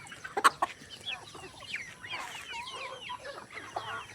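Farm chickens cluck and murmur nearby in a loose, continuous chatter, with one sharper squawk early on and soft overlapping calls throughout at moderate volume, no talk.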